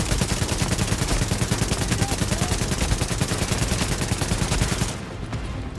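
Sustained automatic gunfire in The Division video game, a loud, fast and steady stream of shots with an even rhythm that cuts off sharply near the end, leaving quieter background.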